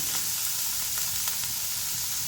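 Onions sautéing in a pan for a Kerala drumstick-leaf thoran make a close, steady sizzle with faint stirring scrapes, no talking.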